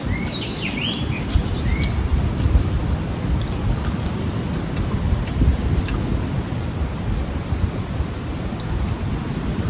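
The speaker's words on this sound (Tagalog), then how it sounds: "ang lakas ng hampas ng hangin sa Kalangalog" Strong wind gusts buffet the microphone outdoors in Kalangalog, a steady loud rumble running throughout, with a few faint bird chirps early on.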